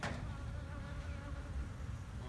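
Honeybees and drones buzzing steadily around hive frames in a queen castle setup, a dense continuous hum close by with no talk.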